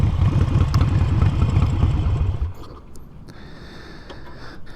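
A 2017 Harley-Davidson Sportster 48 pulls over, its V-twin thumping loud and close with a rapid lumpy pulse before the revs drop and it settles into a quieter, steady idle.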